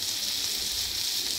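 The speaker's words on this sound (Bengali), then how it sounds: "চার পাঁচটা শুকনো মরিচ ভাজা করে নিই" Four or five dried red chillies frying in hot oil, giving a brief, steady, soft sizzle that continues without a break.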